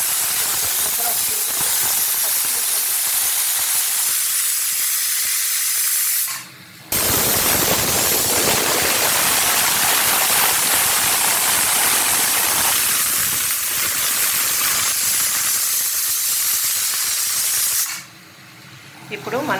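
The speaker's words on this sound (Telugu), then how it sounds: "2 విజిల్స్ వచ్చిన తర్వాత కొంచెం మీడియంలో పెట్టి మరొక 2 విజిల్ రానివ్వండి" A pressure cooker with mutton curry blasts loud, continuous hissing steam from its whistle on the stove, with two long sustained bursts broken by short quiet gaps.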